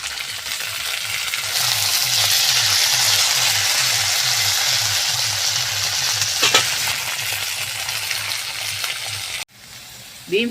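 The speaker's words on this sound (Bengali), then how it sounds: "এবারে আমি কড়াইশুটিগুলো দিয়ে দিচ্ছি" Green peas frying in oil and being stirred in a wok for vegetable fried rice, a loud steady sizzle with rhythmic scraping strokes throughout, briefly cutting off near the end.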